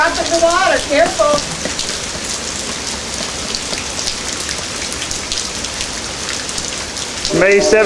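Light rain falls outside in a continuous, even hiss of drops hitting surfaces, close and fairly loud, with brief bits of speech at the start and end.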